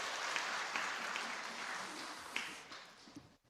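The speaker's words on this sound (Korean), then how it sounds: "우리 박수 한번 뜨겁게 다시 보내주십시오" A church congregation at a Christmas Sunday service applauds the choir: warm, steady clapping from a large room that holds and then fades out near the end, with no voices.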